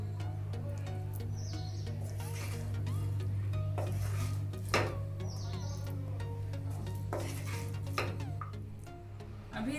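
Bread tadka made with masala bread is stirred and tossed in a pan, soft repeated scraping and gentle sizzling over a steady low hum, with birds chirping faintly in the background.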